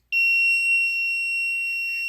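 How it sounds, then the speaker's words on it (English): A homemade Arduino alarm system sounds its buzzer, a loud, steady, piercing electronic tone that starts abruptly and holds for about two seconds. "you have got red lights flashing all over the place, and you have a buzzer."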